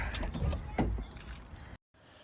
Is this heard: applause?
no